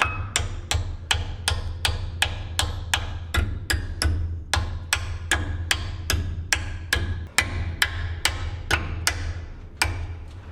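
Hammer tapping brake caliper hardware into place on a square body dump truck, around two dozen sharp metallic taps in a quick, slightly uneven rhythm, close and distinct over a low background hum.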